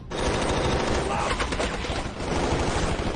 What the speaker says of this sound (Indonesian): ratusan prajurit Jenderal Garza marah, dan langsung memberondong tim The Expendables dengan brutal.